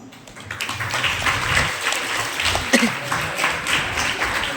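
An audience at an Easwaramma Day gathering giving a round of applause, dense scattered clapping that holds steady at moderate loudness.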